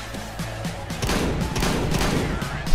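Shotgun blasts in CS:GO on the de_salt map, several loud close shots in quick succession with heavy crackling gunfire from about one second on, mixed into busy match noise.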